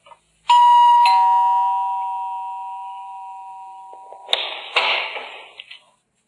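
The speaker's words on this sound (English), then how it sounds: "rang the doorbell" A doorbell rings once with a clear electronic chime that sustains and slowly fades, followed by a few soft clatters and rustles nearby.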